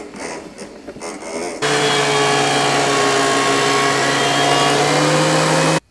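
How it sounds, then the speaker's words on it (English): Wood planer and jointer start up with a sudden loud whirring motor drone that runs steadily, close by, then cuts off abruptly, after a moment of quieter shop noise. "let's head to the planer and the joiner and we'll get this thing flat and get some square edges"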